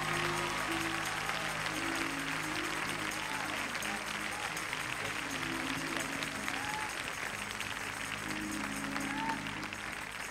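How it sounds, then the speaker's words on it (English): A church congregation applauds with steady, sustained clapping through the whole stretch, moderately distant and filling the room, with a low hum of voices and music underneath. "let's welcome tonight Pastor Katie Nugent with a great big hand clap as she comes tonight"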